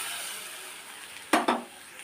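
Motor kolai greens with poppy seed paste are stirred in a pan over a soft steady sizzle, with two quick scraping clinks of the spatula against the pan and no voices.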